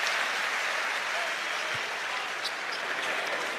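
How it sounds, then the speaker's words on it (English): Basketball crowd applauding Alabama players checking out of a home game against UNC Asheville, a steady broadband wash of clapping and cheering filling the arena throughout, with no pause. "To a very nice round of applause for the Bama faithful that are here."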